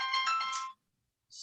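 A mobile phone ringtone goes off during a conference presentation, a bright melodic chime lasting about three quarters of a second, then silence before a short burst of the tone returns.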